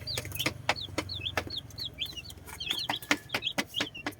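Chickens at a backyard breeding setup cluck in short repeated bursts, with sharp high chirps scattered throughout, close and fairly clear over a low background hum.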